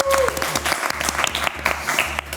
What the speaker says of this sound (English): Big applause for yourself.